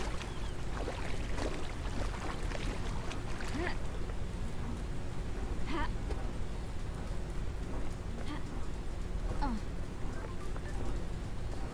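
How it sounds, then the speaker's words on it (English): A waterfall in the video game Paradise Killer gives off a steady, even rushing of falling water that holds at a constant level for the whole stretch. "Waterfall!"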